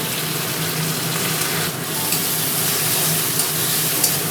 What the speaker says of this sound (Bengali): পেঁয়াজ আর রসুনটা একটু ভাজা ভাজা করে নেব।